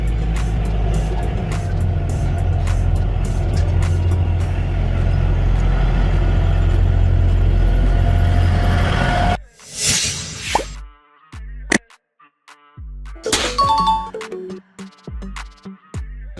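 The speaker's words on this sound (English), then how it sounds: "A lightweight self-propelled rail car combining passenger space and an integrated engine for short regional routes." A lightweight self-propelled passenger rail car with an integrated engine, built for short regional routes, rumbles loudly and steadily for about nine seconds, then gives way to a scattering of sharp clanks and hisses.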